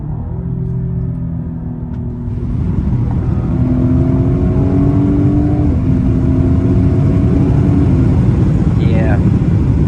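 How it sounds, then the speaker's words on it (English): A 2020 Cadillac CT5 twin-turbo engine revs through manual shifts with rev matching at night, a loud steady rumble rising after a couple of seconds and holding strong, with stepped pitch changes between gears. "Try some manual shifts here. Rev match is very nice."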